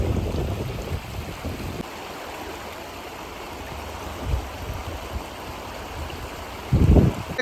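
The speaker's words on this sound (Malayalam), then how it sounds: "നല്ല രസമായിട്ടാണ് വെള്ളം പോണത്" Steady rushing flow of a stream runs continuously and fairly loud throughout, with a few brief low thumps near the end and no talk.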